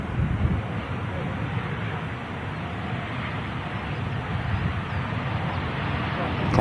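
A Jet2 airliner climbs away after take-off at Manchester Airport, heard as a steady, broad, distant roar mixed with wind buffeting on the microphone.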